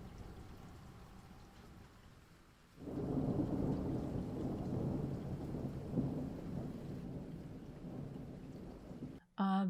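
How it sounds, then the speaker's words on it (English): A thunder sound effect rolls in after a quiet start, a loud sustained rumble with rain-like texture lasting several seconds before breaking off near the end; no one speaks. "We loved finding this thunder to put behind this little page."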